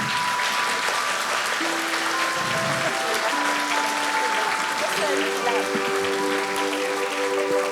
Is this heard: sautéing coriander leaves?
no